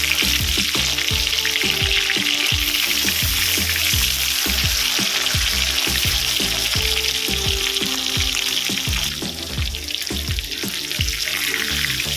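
Pieces of katla fish sizzle steadily in hot oil in a pan, a loud, dense frying hiss with soft pops and scrapes as the fish is turned.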